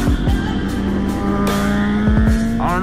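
A small purple motorcycle, roughly 400 cc, passes by as its engine drone rises and falls in pitch, loud and close over a background of other traffic.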